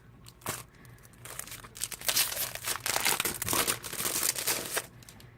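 Paper for a scrapbooking craft kit is handled and crinkled close by, with bursts of rustling and crackling that build in loudness through the middle, no voices.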